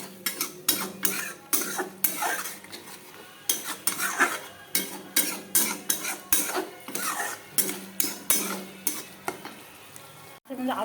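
Fish pieces in a pan with a splash of water are scraped and stirred, a steady rhythm of sharp metal utensil scrapes and clinks over a low sizzle, close and fairly loud, with no talking.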